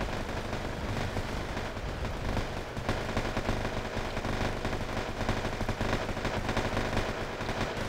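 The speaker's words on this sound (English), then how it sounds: "As you can see, it's most likely just opened fire of them." Sustained automatic gunfire and battle noise from the Wargame AirLand Battle strategy game as reserve infantry come under fire, a loud, dense, continuous clatter with no speech.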